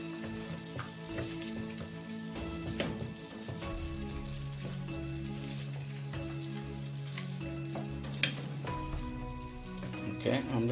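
Masala for a liver and shatkora dupiaza curry sizzles and fries steadily in a pan over a gas flame, a continuous close crackle with occasional stirring clinks, under constant background hum.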